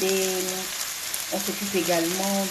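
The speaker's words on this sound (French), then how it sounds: "pendant que les burgers sont à cuire dans cette poêle" Homemade burgers fry in a pan with a steady, close sizzle throughout, while a voice talks over it.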